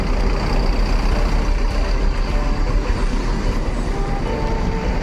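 A large intercity coach pulls away from a busy bus terminal with a continuous heavy, rumbling engine drone and broad road and air noise, loud and close throughout with no talk.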